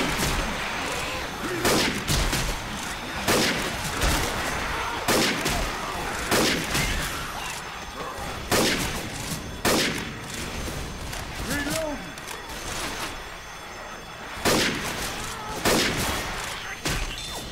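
Rapid bursts of gunfire from Left 4 Dead 2 rattle steadily throughout, loud and close, with a player shouting and talking over the shooting.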